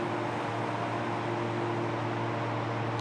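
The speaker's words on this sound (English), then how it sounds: "that's the sound of the dry cooler system 10 meters away" DC120 dry cooler fans running for an immersion mining rack setup, heard from about 10 meters away as a steady broadband whooshing hum with a low tonal drone, constant and unbroken throughout.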